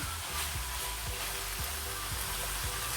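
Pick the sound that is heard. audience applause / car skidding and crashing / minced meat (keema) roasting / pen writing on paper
minced meat (keema) roasting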